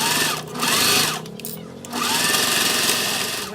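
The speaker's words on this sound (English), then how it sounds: "we're gonna go ahead and baste that at 1/8 of an inch." A sewing machine bastes a fabric seam at 1/8 inch on a simple wristlet, two close, steady stitching runs separated by a short pause.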